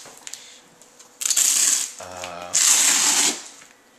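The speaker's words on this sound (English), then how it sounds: "Zipper." The zipper on an AXO Primato motorcycle boot rasps in two long pulls of about half a second each, close and fairly loud, separated by a short gap, with a soft lower hum between them.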